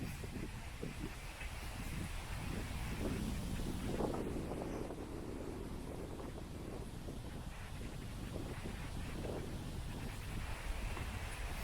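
Steady wind blowing across an open cemetery in Leicester, a continuous broadband rush with slight swells and microphone buffeting, no voices.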